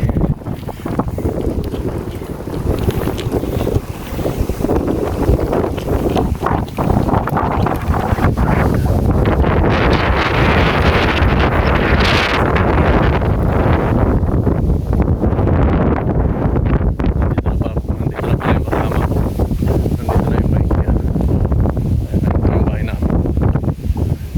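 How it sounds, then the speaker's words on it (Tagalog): Strong, cold wind buffets the microphone outdoors in Japan, a continuous loud rumbling gust with rustling texture throughout, while a person speaks intermittently over it. "Ang lakas ng hangin, ang lamig."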